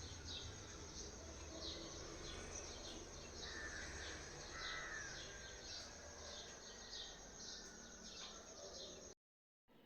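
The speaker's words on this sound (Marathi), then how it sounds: "पक्ष्यांचा किलबिलाट बघा कसा मस्त असा ऐकायला येतो ना" Many small birds chirp and twitter in the early morning, faint and distant, their light calls steady and overlapping above a soft outdoor hiss with no talking.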